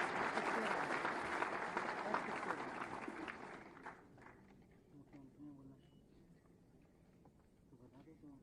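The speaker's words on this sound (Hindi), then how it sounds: "आप सबकी जोरदार तालियों के अभिवादन के साथ" A crowd at a government appointment-letter ceremony with the Chief Minister of Uttar Pradesh claps loudly for about four seconds, then the applause fades out and a voice speaks over a quieter hall.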